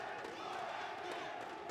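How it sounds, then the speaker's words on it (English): A large arena crowd at a PUBG Mobile esports grand finals watch party chants and roars for 4MV, a dense, continuous wall of voices with rhythmic swells. "The crowd is chanting for 4MV."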